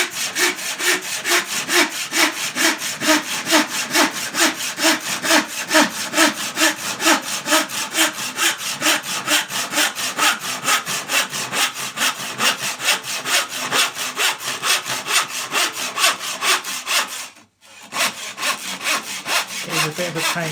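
A hand saw cuts through an IKEA VOXTORP gloss kitchen end panel in fast, even back-and-forth strokes, close and loud, with a brief pause near the end before sawing resumes.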